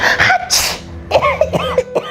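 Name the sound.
sneeze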